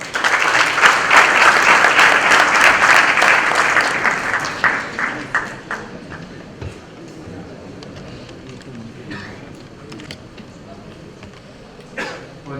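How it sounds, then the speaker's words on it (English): Audience applause at an awards ceremony, starting as a loud, dense roar of many hands, then thinning into scattered claps and fading to low room noise with a few isolated claps. "Please welcome Mr. Suresh Prabhu with a huge round of applause."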